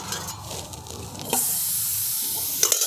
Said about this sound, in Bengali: এরপরে কড়ার মধ্যে আমি দিয়ে দিচ্ছি গাজরগুলো।